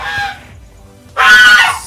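A Muscovy duck sunning itself in a warm spot gives two short, hoarse honking calls, close and loud, separated by a brief pause with no talk.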